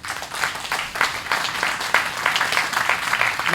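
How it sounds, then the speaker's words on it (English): A crowd at a tenth-anniversary community event for Ceasefire Night Walks bursts into dense, sustained applause, with many hands clapping steadily at close range for several seconds. "So please give yourselves a round of applause."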